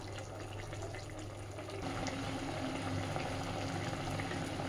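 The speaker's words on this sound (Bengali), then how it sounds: "আরও মিনিট 5 খুব ভালোভাবে এটাকে ফুটিয়ে নেব।" Water lily stems (shapla) boil in a pot, making a quiet, steady bubbling hiss that grows slightly fuller after the first couple of seconds.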